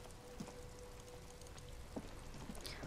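Faint, steady rain falling in the video game Disco Elysium, a soft constant patter with a few scattered drops, quiet and distant.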